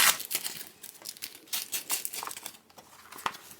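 Packaging for a gift-boxed Gummy Bear tarot card set is torn open and unwrapped, giving close, bright crinkling and crumpling of wrapping in irregular bursts with brief tearing moments and no talk.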